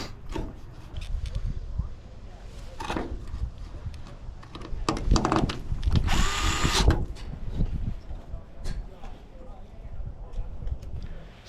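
A power drill drives screws back into the taillight of a Chevy GMC square body truck, buzzing in short bursts with the longest and loudest near the middle. Light clicks and handling noise fill the gaps, and there is no talk.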